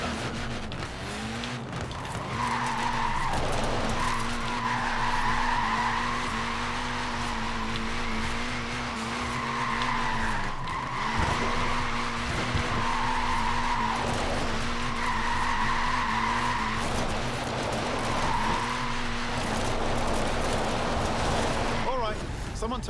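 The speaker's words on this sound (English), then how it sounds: "It's really not an easy car to slide" A short-wheelbase, front-wheel-drive car skids and slides in Forza Horizon 4, with repeated long tire squeals over a steady engine drone. Someone talks over the sliding.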